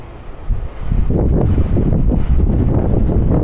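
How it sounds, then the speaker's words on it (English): Strong, cold wind roars through an alleyway in Copenhagen, buffeting the microphone in a continuous, loud rumble that builds after a brief, quieter start. "The wind is just shooting through here."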